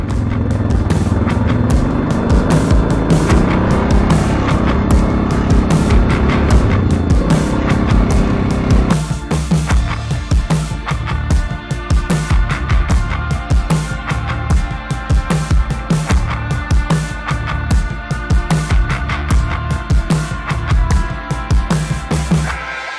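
A quad bike's engine runs continuously while ridden along a straight road, a loud, close, steady drone that shifts to a rougher, pulsing tone about midway through.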